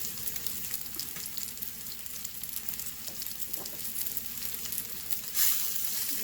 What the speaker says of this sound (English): Brinjal Fry